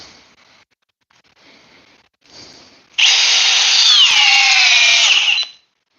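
A Milwaukee 2904 drill drives a big 3/8 by 8-inch fastener, with a few short quieter bursts followed by a loud sustained whine whose pitch sags under load before stopping.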